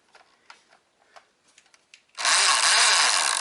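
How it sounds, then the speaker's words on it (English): A motor in a Thunderpup toy blaster spins up loudly and steadily after a few soft clicks and taps, its pusher gear mounted too close and grinding against the wheel. "pusher gear way too close, and as you can see it's going to grind a channel in itself"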